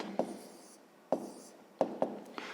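A pen writes a math answer by hand on paper in a quiet room, giving a few short, close scratchy strokes separated by brief pauses.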